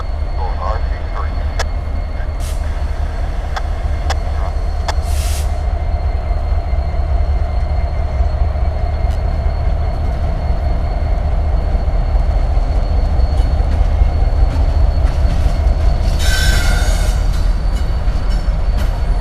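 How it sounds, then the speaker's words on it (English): New York Central heritage locomotive 1066 rolls into DeButts rail yard in Chattanooga, a loud, continuous diesel rumble that holds steady throughout with a few brief higher-pitched bursts over it. "New York Central 1066. Coming into the yard, terminating train 123 here on Rail Moments"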